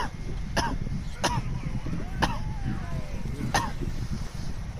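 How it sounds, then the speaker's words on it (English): Four short, sharp coughs come at irregular intervals over a steady low background rumble. "Why are you coughing for?"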